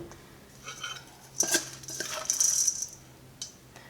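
A mixer grinder jar is picked up and handled, giving a few clinks and rattles of metal against kitchenware, with quiet gaps between the bursts.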